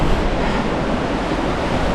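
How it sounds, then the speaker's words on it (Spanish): The Guadalevín river in Ronda running high after torrential rain, a loud, dense, steady roar of rushing water with no break over two seconds. "Mirad, por aquí pasa el río Guadalevín. Mirad cuánta agua lleva."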